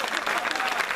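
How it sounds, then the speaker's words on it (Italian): Dense, steady applause from a Christmas concert audience fills the whole moment, loud and close with no break. "Questo applauso è la fiducia"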